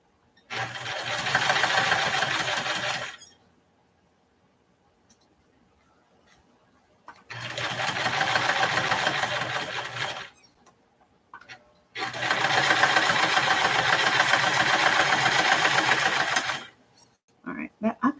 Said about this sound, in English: I'm so close to the edge, I'm just sewing off on it now.